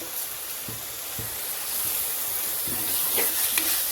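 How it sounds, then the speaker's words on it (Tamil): Onions fry in a pan with ginger garlic paste, turmeric and salt, giving a steady loud sizzling hiss with a few soft stirring knocks, no voices. "ஓகே, வெங்காயம் நல்லா வதங்கிடுச்சு."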